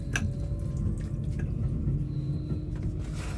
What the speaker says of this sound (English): the water was running